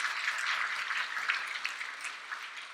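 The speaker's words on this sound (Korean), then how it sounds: "우리 하나님께 영광의 박수 올려드리겠습니다." A church congregation applauds during a Korean worship service, a dense, even wash of many hands clapping at moderate volume and steady throughout.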